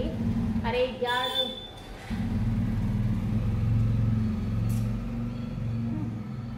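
Road vehicles pass outside a house that sits right on the road, motorbikes among them, giving a steady low engine rumble that swells and lingers near the window, with someone talking over it.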